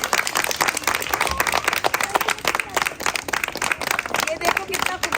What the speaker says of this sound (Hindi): बहुत सारी तालियां बजाइए भाई।